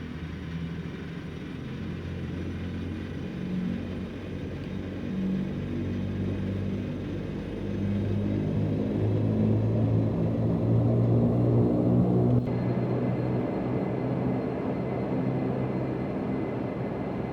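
Majestic Q400 turboprop taking off in FSX at Brisbane, a steady low engine rumble and propeller drone that swells louder as power builds, continuous with no talking.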